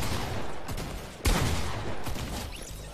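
Shotgun blasts go off in a fast-paced shooter video game, with a sharp heavy boom in the middle and other rough bursts around it, loud and close.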